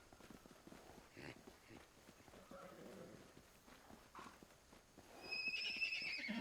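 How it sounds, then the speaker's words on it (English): A horse whinnies in Pathfinder: Wrath of the Righteous, a faint, high neigh rising near the end over quiet clip-clopping hooves and a low game ambience. "so that's a horse whinnying."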